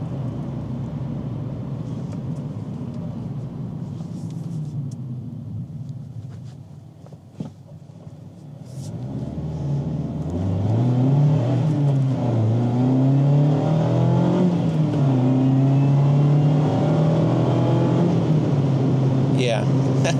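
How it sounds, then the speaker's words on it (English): A 2025 Mazda MX-5 Miata accelerates on the road, its engine revving up through the gears with a rising, steady drone that grows louder midway and carries on to the end. "You see, I don't even rev it up that much compared to what it's capable of."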